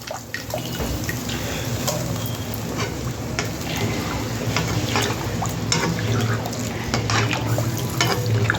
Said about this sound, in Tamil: நான் தண்ணி ஊற்றுறேன்